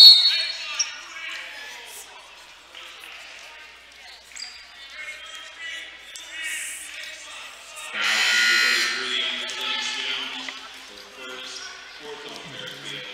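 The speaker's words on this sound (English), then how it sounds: "you can hear the scoreboard operator hitting the" A scoreboard buzzer beeps at a Fairfield at Lakota West girls high school basketball game in a gym, sharp electronic tones heard close up amid ball bounces, squeaks and crowd noise, with a commentator talking.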